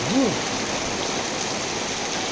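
Pea-sized hailstones, compared to peas or soybeans, falling not very hard and pattering steadily in a dense, even hiss, with a brief voice-like sound near the start.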